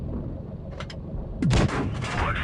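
A StuG tank gun fires in a tank video game, a sharp, loud blast followed by a rolling boom, after a couple of quieter distant shots.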